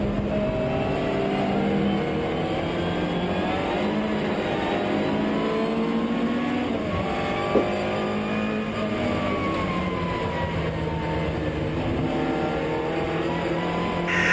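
Race cars including a Ford Fiesta and a Citroen Saxo race at Brands Hatch circuit in a trackday championship, engines droning and revving continuously and loudly with overlapping tones as they run nose to tail, and faint commentary beneath.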